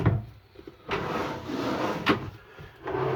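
Handmade wooden kitchen drawers in a caravan slide open and shut, making two longer rolling slides followed by sharp knocks as they close. The sounds are close and moderately loud, with quiet pauses between them and no speech.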